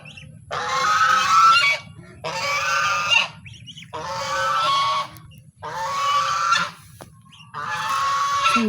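Close, loud geese honk in five repeated bursts separated by short pauses, with no talking.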